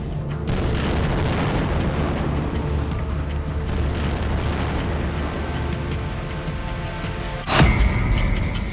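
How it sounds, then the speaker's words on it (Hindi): Bomb blasts from Israeli air strikes on buildings make a heavy, continuous rumbling roar, topped by a sharper, louder boom near the end. "इजराइल के तूफानी हवाई हमलों में बमों के धमाके ऐसे इमारतों को उड़ा रहे हैं"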